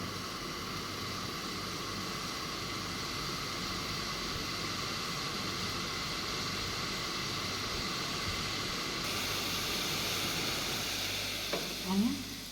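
Sugar syrup for orange juice bubbles and sizzles steadily in a pot, a continuous close hiss with a brief clatter near the end.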